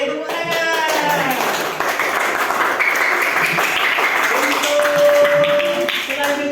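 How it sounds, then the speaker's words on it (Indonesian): A classroom full of students applauds, a steady loud wash of clapping that lasts several seconds, with some voices and a brief tone mixed in. "Oke, tepuk tangan."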